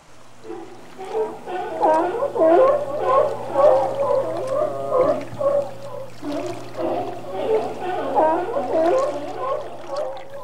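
Steller sea lions in Alaska bellow and groan in a close, loud run of overlapping calls over a steady low hum, with no voices in between.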